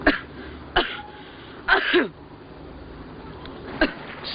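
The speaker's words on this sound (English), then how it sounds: "Bad cough, sir." A man coughs and clears his throat several times in short, rough bursts with brief pauses between them.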